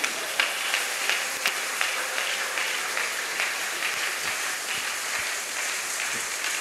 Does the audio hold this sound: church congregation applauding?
yes